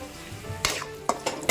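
Cashews sizzling and being stirred in a pan over a high flame, with a few sharp scraping clatters from the stirring over a steady frying hiss.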